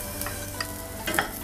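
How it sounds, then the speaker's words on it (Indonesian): Garlic and ginger sizzle in a small amount of hot cooking oil in a pot, with a soft frying hiss and a few brief scraping stirs of a utensil. "masukkan bawang putih dan jahe."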